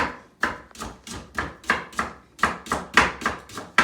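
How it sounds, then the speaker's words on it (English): Rhubarb stalks are chopped in a steady rhythm of about a dozen sharp, loud knife strikes, roughly three per second, with no voices. "you continue chopping and chopping"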